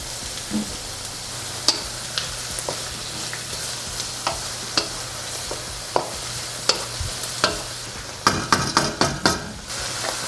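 Mushrooms hit a pan of tofu sisig with minced garlic, a steady low sizzle broken by repeated sharp clicks and scrapes of a utensil stirring against the pan, with a quick flurry of clatters near the end.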